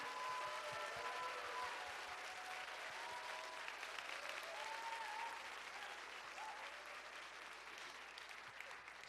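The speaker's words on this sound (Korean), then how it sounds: "최고의 피아니스트 신영주 교수님께도 큰 박수 부탁드립니다" Church audience at an evening praise concert applauding a pianist, sustained even clapping for around nine seconds, fairly soft and distant, with faint voices underneath.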